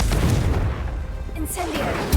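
Explosive Confringo spell blast in Hogwarts Legacy, a deep booming burst that rumbles low and loud through the clip, with a brighter crackle midway and another thump at the end, over game ambience.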